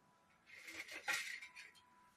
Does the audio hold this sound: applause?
no